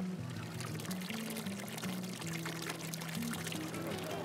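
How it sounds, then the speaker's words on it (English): Water from an outdoor fountain pours and splashes in a steady, continuous rush, fairly loud and close, with no break in the flow. "This fountain's gonna be perfect."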